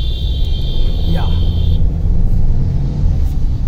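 A Mahindra XUV700 petrol automatic with a 2-liter turbocharged M-Stallion engine creeps through a traffic jam. A steady, low cabin rumble runs throughout, and a thin high whine fades out partway.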